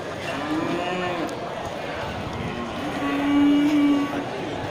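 A few low, drawn-out moos from Aceh cattle, cows with calves, sound over a steady background murmur, one louder call near the end.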